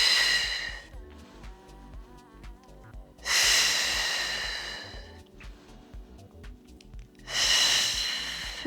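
Deep breathing during Pilates leg circles, with three loud, drawn-out breath bursts spaced a few seconds apart and quieter pauses between them, close to the microphone.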